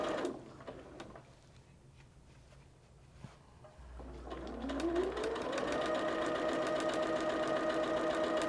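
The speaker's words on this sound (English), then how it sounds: "So I'm going to go ahead and sew this one" A sewing machine starts up over a quilt block, spinning up with a rising whine after a quiet start and then running steadily at moderate volume.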